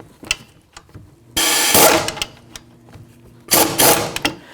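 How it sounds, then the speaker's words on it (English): Air impact gun run in two loud close bursts to tighten hub bolts on a 2009-2014 Nissan Maxima front wheel bearing and hub assembly, with mechanical clicks and rattles between the bursts. "Now it's safe to take your air tool and tighten them up"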